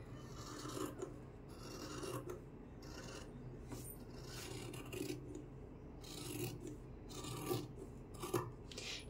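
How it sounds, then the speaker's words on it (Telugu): Scissors cutting fabric for blouse sleeves along drawn lines, a steady run of rasping, rubbing snips with short bursts repeating every second or so, close and moderately quiet. "డ్రా చేసుకున్న విధంగా కటింగ్ చేసుకోవాలి"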